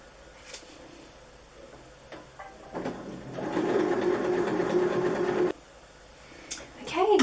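A sewing machine hems the back edges of a small doll dress in one close, rapid whirring run lasting about three seconds, framed by quiet handling noises.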